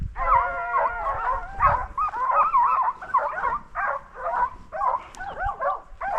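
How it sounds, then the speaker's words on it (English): A hunting dog bays repeatedly on a bobcat hunt, a run of loud, drawn-out bawling howls and yelps in quick bursts with short breaks, fairly close and with no talk. "Oh, that dog's bayed."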